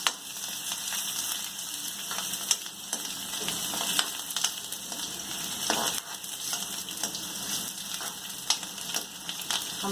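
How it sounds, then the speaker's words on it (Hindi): Finely chopped onions frying in oil toward a light brown for vegetarian fried rice, a steady close sizzle with occasional louder crackles and stirring scrapes, no talk. "प्याज को हल्का हम ब्राउन कर लेंगे।"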